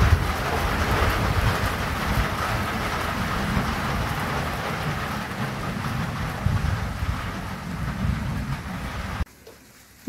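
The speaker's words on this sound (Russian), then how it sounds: "Дождик пошел." Steady rain falls outdoors on a feast day near a church, a dense continuous patter with some wind noise against the microphone, then it drops off abruptly near the end.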